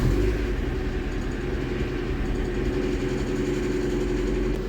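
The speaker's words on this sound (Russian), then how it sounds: "И я скажу, двигатель работает ровно." A VAZ 2112 car engine settles into an even, steady idle after starting, a low continuous rumble heard up close with no talk over it.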